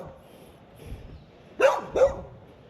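A dog gives two sharp barks in quick succession, moderately close, after a few softer yips and some quiet background noise, on an early morning walk in Cherry Gardens, Jamaica.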